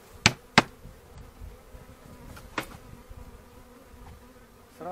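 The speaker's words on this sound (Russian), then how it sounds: "Вытрусим пчелку, которая летала и осталась." A hive of honeybees gives a steady buzzing hum throughout while a beekeeper shakes bees off a frame, with a few sharp knocks from handling the wooden hive box near the start and midway, and no talk.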